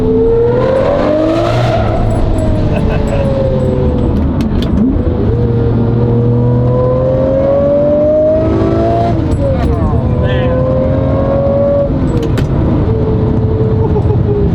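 A Lamborghini Murcielago LP640 with a gated manual pulls up through the gears, its engine pitch climbing and dropping with each shift, loud and close, with occasional tire noise.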